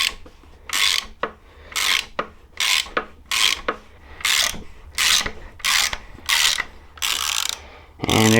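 A wrench ratchets a bolt off an engine's harmonic balancer during teardown, giving a series of close, rasping strokes in a steady rhythm of about ten pulls, with no talking.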